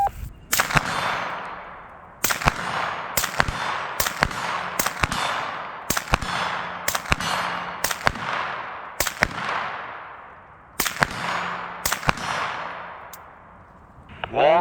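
Supersonic 9mm ball rounds fired through a Gemtech Lunar 9 suppressor in its full-length configuration crack out about a dozen times at uneven intervals, each sharp report followed by a brief ringing decay, loud and close.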